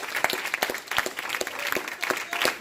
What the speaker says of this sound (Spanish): ¿Usted le puede dar una ofrenda de aplauso?